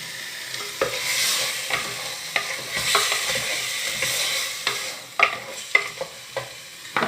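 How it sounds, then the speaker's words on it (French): Tomatoes frying with onion in a pan for couscous sizzle softly and steadily, broken by repeated sharp clacks and scrapes of stirring, close and with no talk. "نخلي الطماطيش تتقلى لي شوية مع البصلة"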